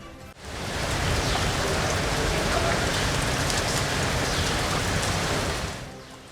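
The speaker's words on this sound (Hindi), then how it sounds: "लाहौर समेत पंजाब के वस्ती इलाकों में कल रात से कहीं तेज़ और कहीं हल्की बारिश का सिलसिला जारी है" Rain in Lahore, Punjab, heavy in places and light in others: a loud, steady, dense hiss of rainfall that builds quickly and holds without a break, with no voices.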